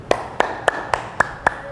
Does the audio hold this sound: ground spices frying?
no